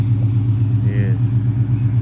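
A Cobra car's engine rumbles steadily and loudly at low pitch as it pulls away, with a faint voice underneath.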